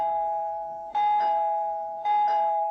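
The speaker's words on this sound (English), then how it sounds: "The doorbell rang loudly." A doorbell chimes twice, each a clear ding-dong ringing out loud and close, with a sustained tone between strikes.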